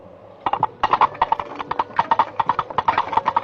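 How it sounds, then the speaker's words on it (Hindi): Foley horse hooves made by clapping coconut shells together, a steady trotting clip-clop of sharp hollow knocks in quick pairs, close and fairly loud with no talk over it. "ये नारियल और घोड़े की चाल का कनेक्शन सबसे पहले 1975 की picture Monty Python and the Holi ग्रेल से ली गई थी"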